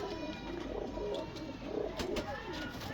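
Pigeons in a breeder's loft coo in low, soft, repeated throaty calls, several overlapping close by against a steady background hiss.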